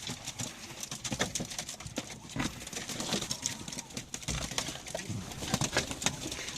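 Young pigeons are tossed up to fly, their wings clapping and fluttering in quick bursts amid soft cooing, fairly faint, with a voice now and then.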